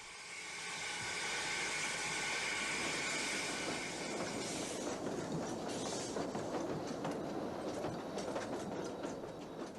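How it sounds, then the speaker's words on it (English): A compound Mallet tank steam locomotive pulls a southbound train out of a station on the Corgo line in Portugal, running downgrade; steady rolling rail noise and hiss with rhythmic clickety-clack building, fairly loud and continuous with no talk. "The southbound train drifts out of the station, the compound Mallet tank making easy work of the falling grades"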